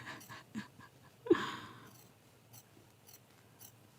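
Scissors snip through quilt batting in one clear, close cut, with a few quieter rustles and small snips around it and no talking.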